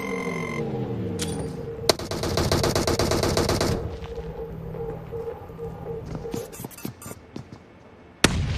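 Rapid automatic gunfire bursts and single shots from an e-sports battle royale video game, with a loud sustained volley early on and scattered sharp shots afterward, heard alone without talk.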